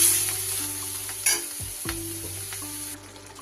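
Pre-cooked vegetables are added to small fish already frying in a pan, and a steady loud sizzle hisses throughout, with a brief clatter of stirring near the start.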